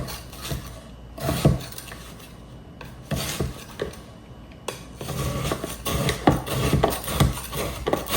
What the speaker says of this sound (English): So what I typically do is I scrape the sides.